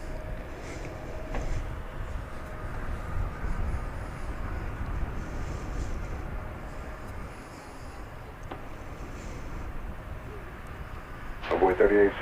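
An airliner arriving from Denver passes at DFW Airport, a broad, steady jet roar at a distance that swells slightly near the end, while people talk over it.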